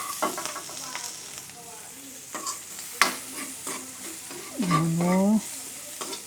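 Garlic and onion sauté in a pan with a steady sizzle and stirring scrapes, plus a louder hiss burst near the end, as vegetables are cooked in a home kitchen.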